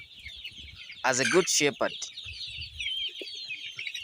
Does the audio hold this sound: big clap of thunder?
no